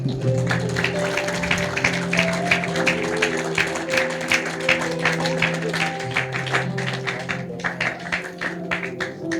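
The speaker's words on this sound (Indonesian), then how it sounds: "Beri tepuk tangan." An audience claps through a youth Easter revival service, the applause loud and sustained over steady background music.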